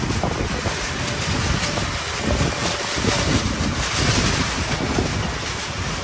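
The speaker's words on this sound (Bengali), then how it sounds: "এই যে দেখেন বাতাস, প্রচন্ড বাতাস হচ্ছে" Strong wind batters loose polythene covers and tears at them, a loud, constant roar with heavy buffeting against the microphone and a rough flapping rustle throughout, no voices.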